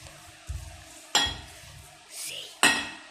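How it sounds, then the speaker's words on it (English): Starch dough for Thai layer kueh being mixed in a bowl with utensils, with soft scraping and stirring and a couple of sharp clinks of a spoon against the bowl, close up. "Mix the dough until you get a firm, smooth texture."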